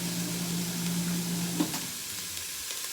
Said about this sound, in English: We've got the majority of our vegetables sauteed and tender. We're on the last batch.